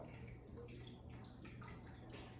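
Liquid poured slowly into a pan for a broccoli rice casserole, a soft continuous trickle and splash, fairly quiet with faint background hum.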